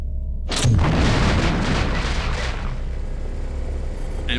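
Grenade launcher blast in System Shock 2, a single loud booming explosion that rolls into a long rumbling decay, heard alone without talk.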